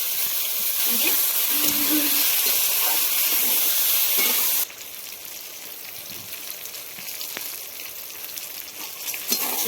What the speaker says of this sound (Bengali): ডিম ভাজা তেলের মধ্যে আর একটু তেল দিয়ে বেগুনগুলো ভেজে নেবো